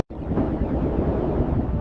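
A wind sound effect for icy, super-windy Neptune: a steady, full, low rushing roar that starts abruptly and holds, loud and close like a gale, with no talking.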